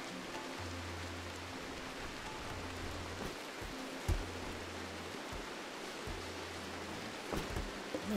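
Steady rain falls in the RimWorld video game, a soft continuous wash with occasional louder drips, alongside a low intermittent hum and no voices.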